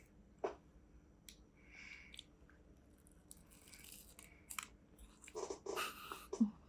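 Close, crunchy chewing with irregular crackles and bites, fairly quiet, with some rustling between the crunches.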